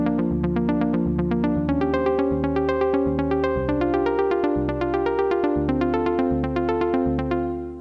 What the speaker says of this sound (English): Now this is an arpeggiator, so if I just play it in its default state, it will sound like this